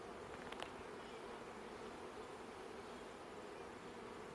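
Honeybees buzz in a dense, steady drone close to an open hive during a spring inspection, faint and continuous, with no talking.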